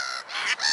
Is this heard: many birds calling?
yes